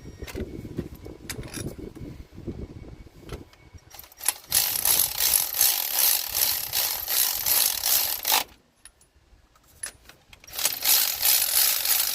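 Ratchet wrench at work on a Ramcharger engine, giving long bursts of rapid, bright clicking that stop briefly and then resume close up.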